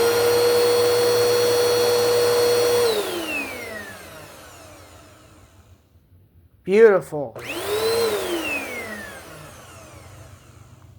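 A vacuum cleaner's motor whines steadily, then spins down to near silence; after a brief clatter it starts up again with a rising whir. A voice speaks briefly.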